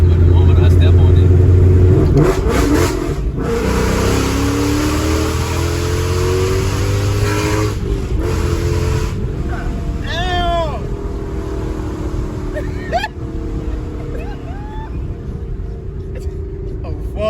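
A 500+ hp 2015 Ford Mustang GT's V8 revs hard while accelerating, a loud, deep roar rising in pitch through gear changes, recorded from inside the car with voices talking over it.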